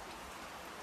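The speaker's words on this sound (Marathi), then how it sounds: "बाहेर पाऊस चालू आहे" Rain falls steadily outside, a faint, even wash of drops on surfaces, heard from indoors with no talking.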